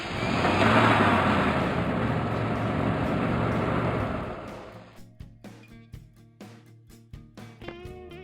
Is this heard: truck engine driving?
yes